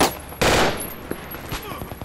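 Gunfire in the Project Reality military shooter: a loud burst of shots near the start, then scattered sharper cracks and thuds, with faint voices underneath.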